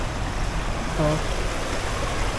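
River water flows steadily beside large rocks under a bridge, a continuous close wash of running water with no breaks.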